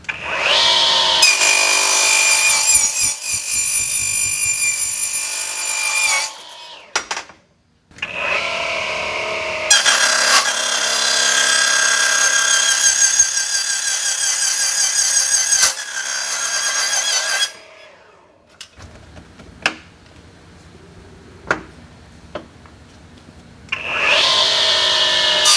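A TICHOP DC-9913 metal cutting saw makes 45-degree cuts, with a loud, close, continuous abrasive whine in long runs broken by pauses, faint ticks, and a new cut starting at the end.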